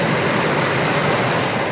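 Jet engines of a 1969 United Air Lines airliner running, a steady, loud broadband roar close by with no voices.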